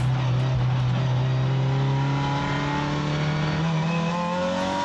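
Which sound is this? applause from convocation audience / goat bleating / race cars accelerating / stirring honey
race cars accelerating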